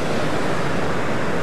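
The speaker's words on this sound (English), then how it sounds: "This is such a stunning waterfall." A waterfall at Etive Mor roars as a dense, steady rush of falling water, loud and continuous with no voices.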